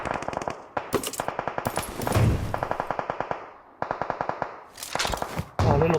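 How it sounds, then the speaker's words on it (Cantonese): Sharp gunshots go off outside in quick rattling bursts separated by short silent gaps, loud and close-sounding, with no one speaking. "出邊已經好多槍聲"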